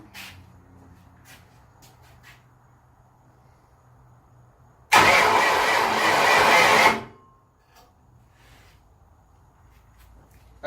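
A big block engine swapped into a Mazda Miata cranks in one loud, rough burst of about two seconds, then cuts off back to a quiet garage with faint shuffling.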